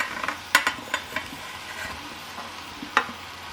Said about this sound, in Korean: 썰어놓은 토마토를 모두 넣으시고요.